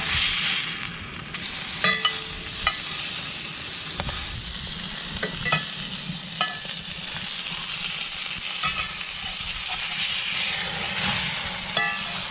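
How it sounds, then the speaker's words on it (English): A thick cheeseburger sizzles hard in a pan at a snowy winter off-grid campsite, a loud, steady frying hiss with crackles, spatters and an occasional scrape. "that big old cheeseburger is cooking away. I think it's ready for a quick flip."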